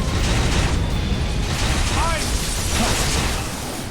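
A fire spell attack in the video game Octopath Traveler 0 makes a loud, continuous roaring blast that stays dense and steady throughout, with faint chirping tones flickering over it before it eases slightly at the end.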